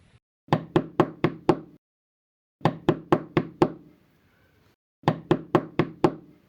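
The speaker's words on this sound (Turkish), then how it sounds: "Kapı çalıyor." Knocking on a house door in Roblox Brookhaven: three crisp bursts of five quick raps each, separated by silent pauses, close and clear with no voices.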